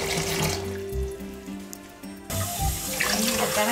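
Freshly harvested rucola leaves are rinsed under a running tap, with water splashing and gurgling into a sink and shifting in tone as the leaves are moved through the stream.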